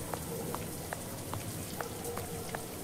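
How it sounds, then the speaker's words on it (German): Steady pouring rain in a Sherlock Holmes video game, a constant soft hiss with faint, regular drip taps, no voices. "Im strömenden Regen."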